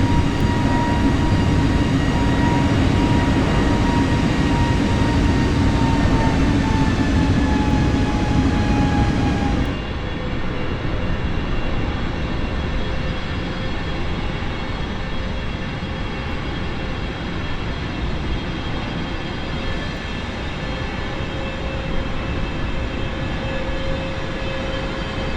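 An airliner in Microsoft Flight Simulator climbs after takeoff toward 5,000 feet, its jet engines giving a loud, steady drone and whine with tones that slowly drift lower, and the roar eases slightly partway through.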